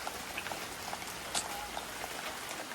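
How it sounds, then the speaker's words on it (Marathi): Rain falls outside during a power cut, a faint, steady pattering hiss heard from indoors with a few scattered drip taps. "तुमका पाऊस दाखवतोय कसं पडता तो बाहेर"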